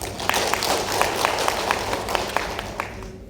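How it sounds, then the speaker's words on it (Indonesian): A short round of light clapping from a small group at a training session, scattered claps at a moderate distance that fade out at the end. "Tepuk tangan dulu buat kita semua."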